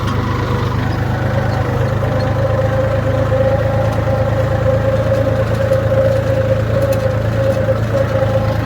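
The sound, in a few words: tractor engine running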